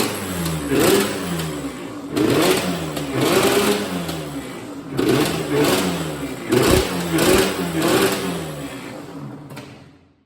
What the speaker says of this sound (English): I'm gonna start the bike for y'all just so we can see what's going on and see how it sounds.